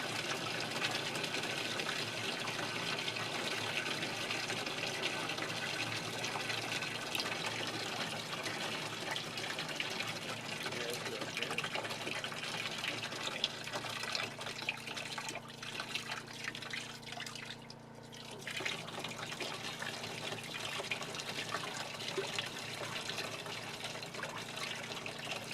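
Utility pump moving water through a 2 inch adapter, a steady continuous wash of flowing, gushing water with a constant motor hum that holds level throughout and dips only briefly near the end.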